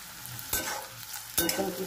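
Chopped garlic frying in a pan, with a soft sizzle broken by two distinct scraping stirs about a second apart.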